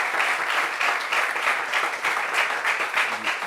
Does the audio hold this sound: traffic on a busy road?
no